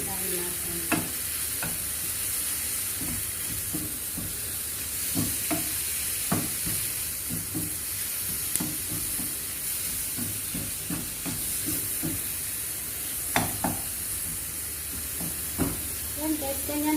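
Beef steak frying in a pan with a splash of soy sauce, a steady sizzle and hiss running throughout with frequent scraping and stirring clicks of a utensil, moderately close and without talk over it.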